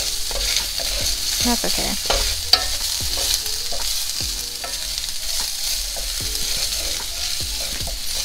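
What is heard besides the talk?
ginger frying in a pan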